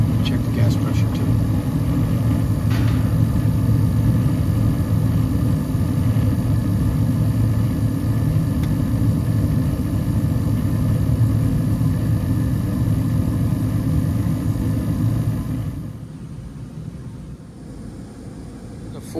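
A Carrier rooftop HVAC unit runs with a steady, loud low-frequency hum and rumble that holds constant before dropping noticeably quieter near the end.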